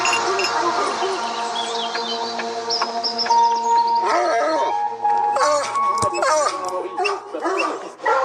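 Hunting dogs at a kennel depot in Dordogne, many barking, yipping and howling at once in a loud, continuous, overlapping chorus with no pause.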